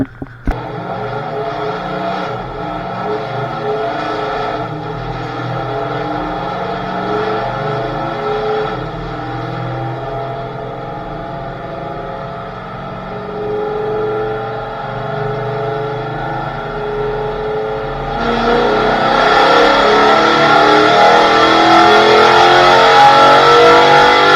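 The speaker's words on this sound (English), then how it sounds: "we just made that rip on it and it made 501 horsepower" Nitrous-fed 426 Dodge Challenger on dyno rollers, engine droning loud and steady for a long pull before surging louder and higher near the end, close and continuous with no talking.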